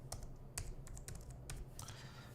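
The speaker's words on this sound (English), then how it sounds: "type in the IP address of your Raspberry Pi number 3" Close, faint typing on a computer keyboard while entering commands in an SSH session to a Raspberry Pi cluster node, a string of light, irregular key clicks over a low steady hum.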